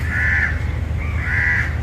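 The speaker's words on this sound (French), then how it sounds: "C'est quoi tous ces oiseaux?" Two loud, harsh crow-like caws close by, each drawn out and separated by a short pause, over a low background rumble.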